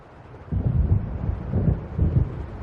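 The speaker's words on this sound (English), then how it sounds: "It seems there's a storm coming." Deep rolling thunder rumbles over Cauldron Lake in Alan Wake Remastered, three low, heavy swells that build and fade under a soft windy background.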